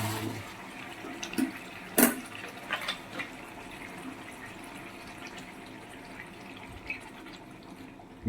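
Water poured into a pan of cooking meat curry, a brief gushing splash followed by quieter bubbling and trickling, heard close with no talking.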